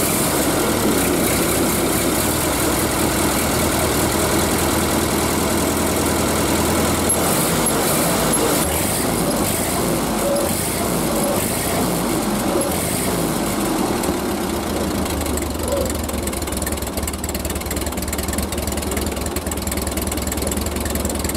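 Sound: Ford 8N tractor engine idling after sitting seven years

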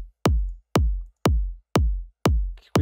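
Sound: kick drum playing in a Cubase mix

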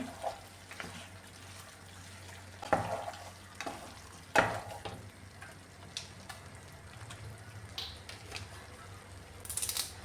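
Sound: chicken roast ingredients being stirred and mixed in a pan

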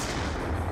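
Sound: gunfire at a shield in Call of Duty Black Ops 2 (video game)

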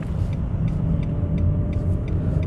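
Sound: car pulling away in second gear

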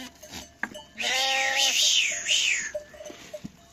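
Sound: young goats bleating

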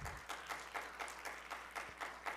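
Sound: applause

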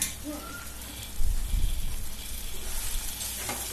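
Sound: elephant yam frying and being stirred in masala in a pan

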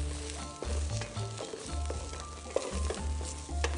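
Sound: garlic and onion sautéing in oil

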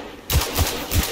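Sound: gunfire in the video game Destiny 2

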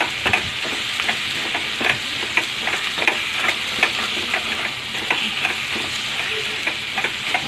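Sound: stirring bitter gourd thokku frying in a pan

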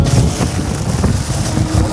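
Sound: sea wind blowing into the microphone

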